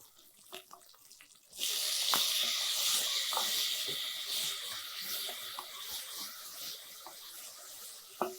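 Onions and tomato sautéing in a pan for sambar, a sizzling hiss that bursts in after a quiet start and carries on steadily with small crackles, close and moderately loud.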